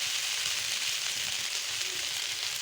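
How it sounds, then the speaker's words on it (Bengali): Sliced potato and pointed gourd lightly frying in a pan, a steady close sizzle with fine crackle holding level for the whole stretch, no voices. "আমি আলু পটলগুলোকে একটু হালকা হালকা ভেজে নিয়েছি"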